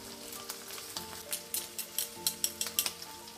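Two crushed garlic cloves frying in a steel pan, a quiet sizzle with quick metallic clinks and scrapes of a utensil stirring against the pan, no talking.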